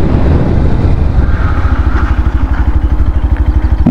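A 2025 Yamaha FZ-X motorcycle engine hums close and loud in fourth gear, its rapid pulsing beat slowing and wavering as both brakes are applied.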